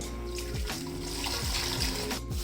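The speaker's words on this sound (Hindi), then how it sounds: "और इसके साथ ही तकरीबन 4 गिलास के जितना मैं और पानी डाल दूँगी।" Water pours into a kadhai holding ground gram flour and yogurt for kadhi, a steady, close splashing and gurgling stream that runs continuously without talk.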